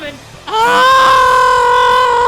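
A Left 4 Dead 2 game character lets out one long, loud, sustained shout warning the team of a nearby special infected, starting abruptly and holding steady before cutting off.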